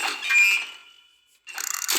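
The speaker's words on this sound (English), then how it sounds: "That's the most creakiest oven I've ever heard." The oven in the cooking game Toca Kitchen 2 gives a creaky mechanical door sound: a ratcheting creak with a ringing tone that fades, a short pause, then another burst of clicking creaks, fairly close.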